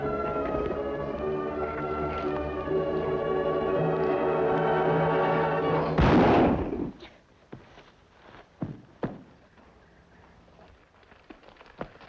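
A single loud gunshot in a western drama scene abruptly cuts off sustained music, followed by a few scattered sharp knocks and clatters in the quiet that follows.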